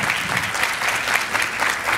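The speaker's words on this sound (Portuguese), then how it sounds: "palmas, pessoal" An audience at a trends conference panel session applauds a guest, dense continuous clapping from a sizeable crowd filling the moment at an even level.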